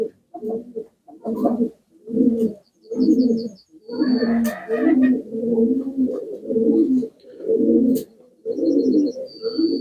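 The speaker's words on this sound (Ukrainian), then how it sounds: "ось цей звук, коли голуби гудять" Pigeons coo in a steady run of low, throaty, rolling calls, close and loud, with a few faint high chirps between them.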